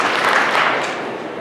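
An audience at a school district education services presentation breaks into a short burst of clapping, a dense close patter lasting about a second and a half before tapering off, with no talking over it.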